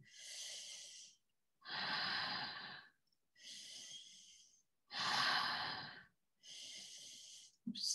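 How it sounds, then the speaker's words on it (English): Slow, deep breaths during a breathing exercise: five long airy inhales and exhales about a second each, separated by brief silences, close and steady with no talking. "Slow, deep breathing, touching the tongue up the palate."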